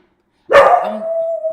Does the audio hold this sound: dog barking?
yes